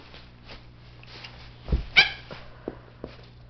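A West Highland terrier playing with a cat lets out one sharp, close bark, just after a soft thump, against a quiet room with faint background noise.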